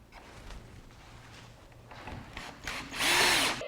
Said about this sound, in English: we're going to be adding pocket hole screws through those pocket holes on the end of each plank